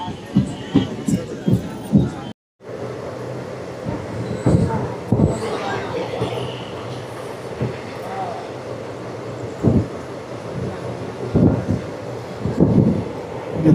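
A crowded passenger train travels near Narasaraopet station in Andhra Pradesh, with a steady rumble of wheels and wind and repeated heavy clunks throughout. The noise briefly cuts out near the start, then continues loud and close.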